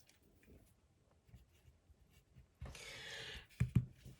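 A pen writing out a math answer on paper: faint scratchy strokes near the mic, then a louder scribbling burst near the end followed by a couple of taps.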